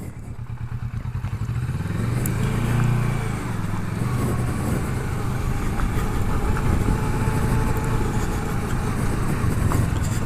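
Kawasaki Versys 650 motorcycle riding along, a steady engine drone with a low rev swell near the start, then a continuous ride rumble with wind and road noise, close and fairly loud.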